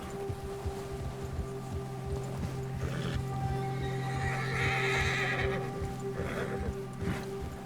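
A frightened horse in Red Dead Redemption 2 whinnies shrilly over steady clip-clopping hooves, with a low hum in the background and no talk.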